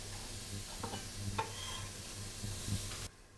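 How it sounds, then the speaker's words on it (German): Onions sweating in a pan for potato salad give a soft, steady sizzle with a few stirring scrapes and clinks near the end, alone and fairly quiet. "Während die Zwiebeln ein bisschen schwitzen"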